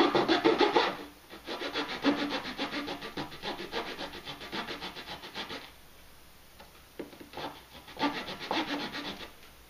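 Small gauge saw cutting wood for a resonator guitar kit, steady rhythmic back-and-forth strokes close up, pausing briefly midway then resuming in short bursts, with no talking.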